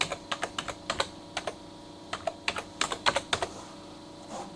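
Fingers type in short bursts on a computer keyboard, crisp close key clicks in small clusters separated by brief pauses, with no talking.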